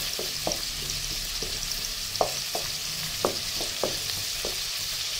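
Whole garam masala spices frying in hot oil for a venison curry, a steady hissing sizzle with several sharp clicks of a spatula against the pan, close up and without speech.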